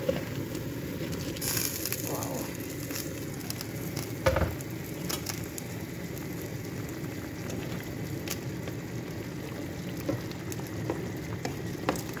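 Fried hilsa fish and pointed gourd simmering in tomato gravy, a soft, steady sizzle and bubbling with occasional clinks and stirring sounds, close and moderately quiet.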